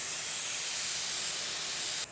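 Spray gun painting parts such as a boat cowling, a loud continuous close hiss of atomized paint that cuts off abruptly at the end, no talking.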